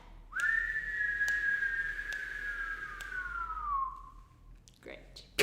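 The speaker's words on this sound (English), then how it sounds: "Breathe in, 2, 3, 4, hold, whistle." One long whistled note from a group in an online choir warm-up rises at the start, holds for several seconds, then slowly slides downward and fades. A short burst of noise and laughter follows.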